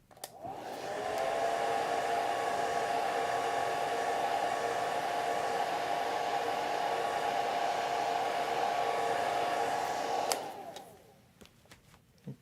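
A hair dryer blows steadily over a watercolor painting of rock arches, a close, even whooshing drone lasting about ten seconds before switching off and fading, with no talking.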